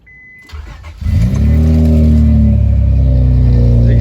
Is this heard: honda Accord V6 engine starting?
yes